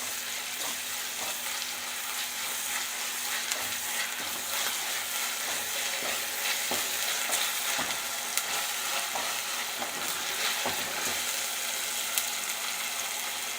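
Tomato and ginger-garlic paste sauté in hot oil in a pan for a Kerala-style fish curry, giving a steady, close sizzle with scattered stirring clicks and scrapes throughout.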